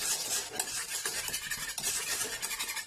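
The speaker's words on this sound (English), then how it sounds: "I'm going to give it a stir just to avoid lumps." A spoon stirs cooled vegan chocolate pudding in a pot, making steady scraping and soft wet swishing strokes with metallic clinks, close and fairly quiet, with no talking.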